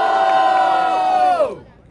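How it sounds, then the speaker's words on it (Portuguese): A live crowd at a Brazilian freestyle rap battle in a regional Red Bull qualifier roars and cheers loudly and steadily, close and dense, then the noise cuts away sharply near the end. "Muito barulho pras rimas de Yokai."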